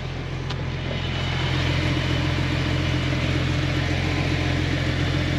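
A 2000 Jeep Wrangler engine idling after starting, a steady low rumble with a constant hum, close and even throughout with no voices.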